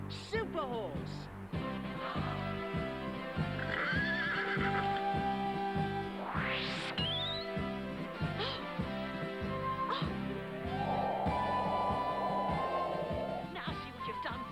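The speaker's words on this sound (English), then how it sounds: "Behold, super horse." A horse whinnies loudly over a steady clip-clop of hooves in a British TV comedy scene, with music and voices running through it.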